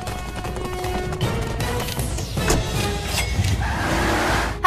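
A taxi accelerates hard during a frantic cartoon race, its engine and road noise loud and continuous with crashing, skidding-like bursts mixed in, no talking.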